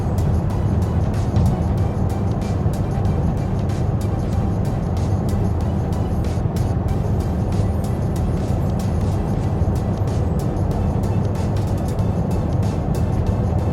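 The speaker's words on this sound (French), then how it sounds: "Donc on passe maintenant à l'étape des 130 km/h en boîte 6." A Volvo XC70 cruising at 130 km/h in sixth gear fills the cabin with a steady, loud low drone of engine and road noise that holds constant throughout without a break.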